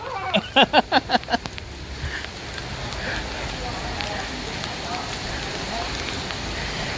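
Rain falls on Beach Road in Pattaya, a continuous soft hiss of drops on the street that carries on evenly after a quick burst of sharp voice-like sounds at the start.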